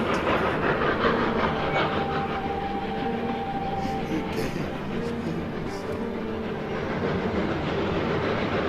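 A train rumbles steadily past close by, a continuous loud roar with rattling wheels and a faint whining tone, with some muffled voices underneath.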